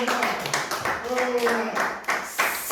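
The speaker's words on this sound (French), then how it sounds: "Vous voyez, acclamez pour le Seigneur." Congregation clapping in rhythm during a French-language church sermon, quick steady hand claps near and loud over a crowd murmur and a sung or voiced tone.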